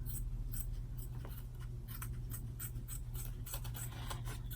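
Scissors snip through excess tape on a fabric zipper bag, a series of short crisp cuts in uneven rhythm, close and fairly quiet over a low background hum.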